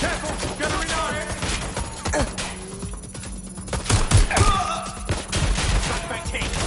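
Dense bursts of gunfire in Watch Dogs Legion crackle in rapid, uneven volleys, loud and close, with shouting voices mixed in among the shots.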